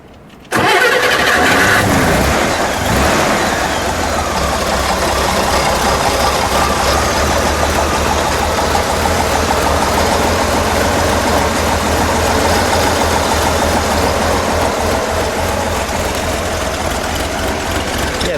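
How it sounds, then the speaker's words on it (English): A 1965 Chevrolet Corvair Corsa engine cranks and catches with a loud roar, then settles into a steady, rumbling idle that continues evenly for a long stretch. "Let's fire it up. Let me hear it, shall we? We'll let it idle"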